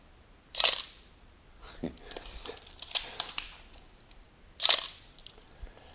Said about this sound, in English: Let me press the shutter again so you can hear the sound